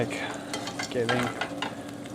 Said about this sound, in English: I'm obviously using it for stir frying, like right now.